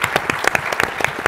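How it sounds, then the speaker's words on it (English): Audience applause breaks out in brief bursts of hand claps, dense and fairly loud, with no talking over it. "I think we should give Darci a round of applause,"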